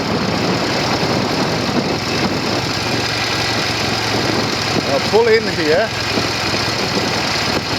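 A Norton Commando 750 motorcycle engine at tickover during a ride, a steady low idle rumble running throughout, with a voice speaking briefly near the end.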